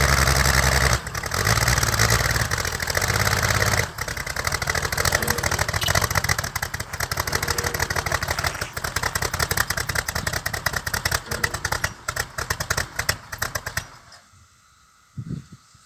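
A 1961 narrow gauge Bombardier snow vehicle's engine running after sitting in the snow for a month, a loud rough rattling drone with rapid firing pulses that cuts out abruptly near the end.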